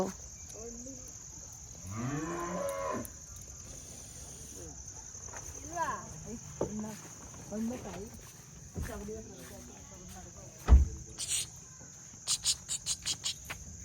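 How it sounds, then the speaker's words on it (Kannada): A new ox gives a drawn-out low moo in the early seconds, outdoors among chirping crickets, with people talking intermittently and a few sharp knocks near the end. "ಅಣ್ಣಂದು ಹೊಸ ಎತ್ತು"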